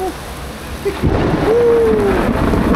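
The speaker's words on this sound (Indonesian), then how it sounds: "Ini karena petir-petir teman-teman" Thunder rolls during rain at a petrol station on a motorbike tour route in East Java: a low, loud rumble swells about a second in and lingers over a constant hiss of falling rain.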